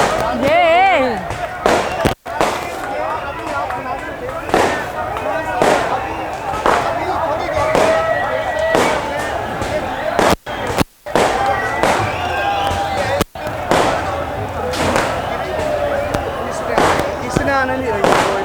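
Sharp, loud cracks of gunfire ring out in a dense, shouting crowd at a rally in Zaman Park, Lahore, several bangs scattered through the clip over constant agitated voices and commotion.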